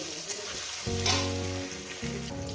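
Tomato frying in a pan for a Bengali fish curry gives a steady, close sizzle throughout, with a low tonal hum running beneath it. No one speaks.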